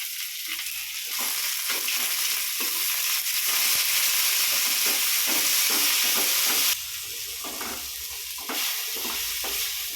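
Curry leaves, coriander and tomato fry in a pan for an ivy gourd kuzhambu, giving a steady loud sizzle with stirring scrapes. The sizzle runs strong for about seven seconds, then drops slightly and continues.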